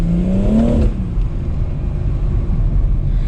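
A BMW M140i engine revs up loudly and close, with a rising tone that cuts off suddenly as the paddle shifter drops it into manual, leaving a steady low rumble idling on afterward.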